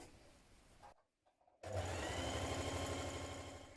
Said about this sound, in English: we're going to stitch this underarm seam